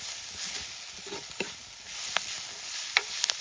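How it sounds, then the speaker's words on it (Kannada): Chopped onions with ginger-garlic paste fry in a pan for an egg dish, giving a steady soft sizzle broken by a few sharp scrapes and clinks of stirring, with no talking. "ಈರುಳ್ಳಿ ಚಂದ ಮಾಡಿ ಕಲ್ಲರ್ ಬಂತು ನೋಡಿ ಇಷ್ಟು ಫ್ರೈ ಆಗಬೇಕು"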